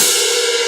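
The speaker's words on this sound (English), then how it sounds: "you get a really harsh attack and they don't fully ring" Crash cymbals struck hard straight on produce a harsh, clangy wash that sounds loud and bright and stays fairly steady through a brief moment, without a full ringing bloom.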